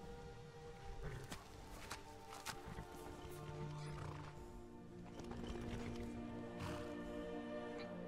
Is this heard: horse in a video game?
yes